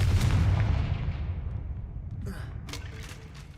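A fiery Confringo spell blast in Hogwarts Legacy lands as a loud, booming burst that rumbles and fades over a few seconds, followed by faint breathy sounds.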